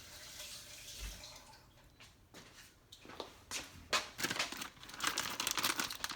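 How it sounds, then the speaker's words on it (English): Kitchen tap running as hands are washed at a sink, a steady splashing hiss with crinkly, uneven bursts of water that grow louder and busier toward the end, close by and without talk. "I'm wash my hands real quick"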